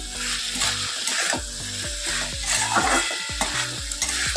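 Fish head mixture with Kashmiri chili fries in a pan, a steady close sizzle with repeated scraping stirs and clinks of a utensil.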